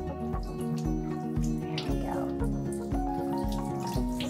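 Water from a small cup splashes and trickles over a dog during a bath, in a steady run of pours with some dripping, all fairly close, while music plays throughout.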